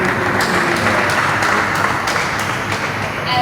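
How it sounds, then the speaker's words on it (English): At a media networking night, a crowd claps steadily in a continuous roar of applause with scattered voices, over a low, pulsing music bed. "A round of applause for Mr."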